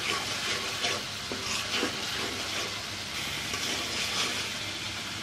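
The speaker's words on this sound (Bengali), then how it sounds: "আবারও এটাকে ভালো করে নেড়ে নিতে হবে যতক্ষণ পর্যন্ত আদা রসুনের কাঁচা ফ্লেভারটা না যায়।" Ginger-garlic paste fries in a pan while being stirred, giving a steady close sizzle and hiss with soft scraping strokes throughout.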